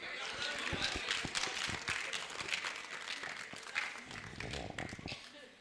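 Clapping from an audience during a political comedy monologue, a scattered, uneven burst of hands at a quiet level with some irregular louder claps.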